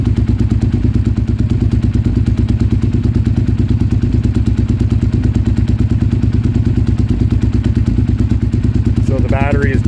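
A Suzuki SV650 motorcycle engine idles at close range, a loud, steady, even throbbing pulse running throughout, with a brief faint voice-like sound near the end.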